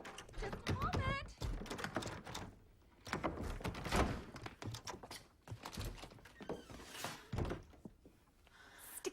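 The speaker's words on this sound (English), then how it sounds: "Sticky door." A sticky door is forced open in an old radio drama, with a series of close, heavy thumps, rattles and scrapes in uneven bursts, as voices speak around the effort.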